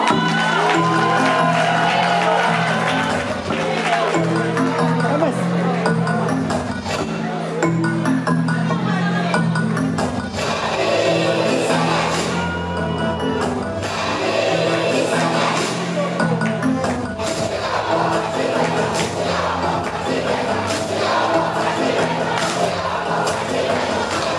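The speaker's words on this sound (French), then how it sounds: "Sous vos applaudissements." A large crowd cheers and claps continuously, loud and dense, with shouts rising over a constant roar.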